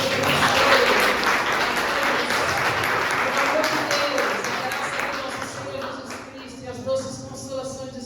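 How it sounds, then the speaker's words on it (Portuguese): Church congregation clapping in praise during an Easter resurrection service, a dense burst of applause that fades gradually toward the end, with voices mixed in. "aplauda o Senhor"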